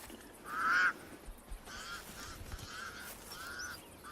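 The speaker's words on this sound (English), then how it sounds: "The pied crows sound the alarm again." Harsh, nasal alarm calls of pied crows repeat several times at a moderate distance, the first loudest, over a quiet outdoor background.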